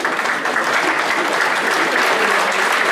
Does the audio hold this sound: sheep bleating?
no